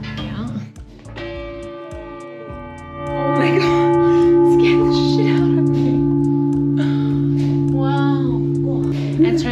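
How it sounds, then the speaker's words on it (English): Bells ring in a bell tower in Belgium, a long sustained tone with resonant overtones that swells louder about three seconds in and holds steady, with voices talking over and around it. "I've never been in that bell tower. There's some good old bells as well."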